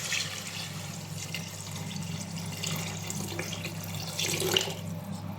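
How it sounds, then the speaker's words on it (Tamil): Water pours steadily into a pot of rice, a continuous splashing stream that swells slightly near the end, with no talking. "இப்போ தண்ணியை சேர்த்துக்கலாம்."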